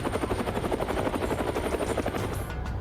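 A Z-8 military helicopter flying alongside a Chinese warship, its rotor producing a steady, loud, rapid chopping thump with continuous turbine roar throughout.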